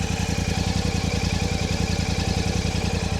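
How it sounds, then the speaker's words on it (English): A Royal Enfield Classic 650 motorcycle engine runs at a steady idle, close and loud, with an even low throbbing pulse and no talking. "now let me start the bike"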